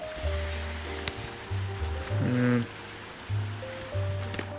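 A small goldfish garden pond's water feature runs with a soft, steady trickle, faint and close, while someone talks over it in short phrases.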